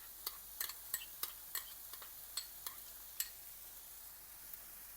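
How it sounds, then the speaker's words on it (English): Ginger garlic paste cooks with onions for pav bhaji, a faint low sizzle under a series of sharp, evenly spaced taps and scrapes of a spoon stirring in the pan, close by with no talking. "Now I'm adding the ginger and garlic paste so that they cook with the onions."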